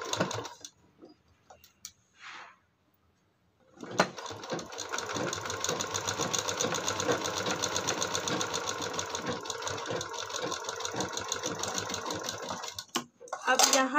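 Domestic sewing machine stitching layered fabric for a latkan tassel, a steady fast whirring rattle running for about nine seconds after brief handling noises, close and loud.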